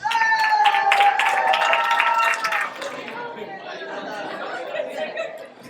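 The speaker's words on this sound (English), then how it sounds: "Ladies and gentlemen, let's give him a round of applause." Wedding guests applaud after a speech at a reception, a dense burst of clapping mixed with chatter and some laughter that swells early and then eases into softer crowd murmur.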